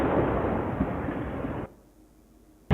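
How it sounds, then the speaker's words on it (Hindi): An explosion caught on CCTV in Delhi: a loud, sustained roaring blast fills the first half, then cuts to low rumble before another sharp burst at the end. "ये धमाके की आवाज सुनिए, धमाके की आवाज कितनी डरा देने वाली है।"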